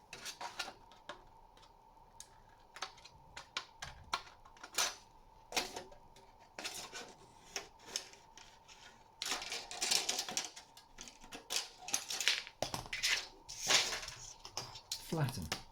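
Scissors or snips cut a piece of aluminium sheet, giving a close series of irregular sharp clicks and crisp metallic snips that grow busier and louder toward the end.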